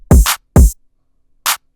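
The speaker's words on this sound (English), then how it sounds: "if we just take that same pattern and just layer it with the open hats" Kick pattern programmed in FL Studio, layered with open hi-hats: three short, loud hits with long bright hat tails, two close together and one after a gap, with no talking.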